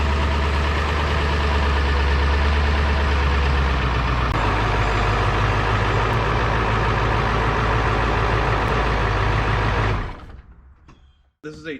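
A 2001 Ford F-550 XLT work truck with a 7.3 liter Power Stroke diesel, four-wheel drive, runs with a loud, close, steady idle clatter that cuts off abruptly near the end, with no talking.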